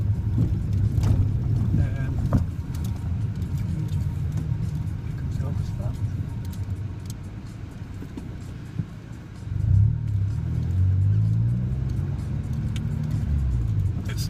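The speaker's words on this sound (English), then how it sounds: "with the Scorpion exhaust system, you floor it" A Mini's engine with a Scorpion aftermarket exhaust rumbles steadily under continuous talking, swelling into a louder, rising full-throttle rev near the end.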